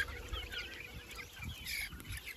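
Chickens in a simple backyard coop clucking, a low, irregular murmur of several birds with soft scattered clucks, faint and fairly close, no talk.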